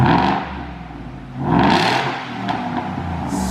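A Ford F150 engine fitted with a Roush cold air intake revs up in a couple of swelling bursts, each rising and falling back to a rough idle, loud and close.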